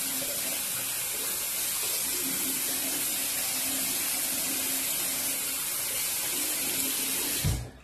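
Tap water runs steadily into a sink for a final rinse after shaving, a close, even splashing hiss that cuts off abruptly at the end.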